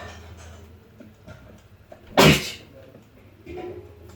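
A single sharp sneeze from a person bursts out abruptly in a quiet room, loud and close, framed by faint background ticks and a brief low rustle afterward.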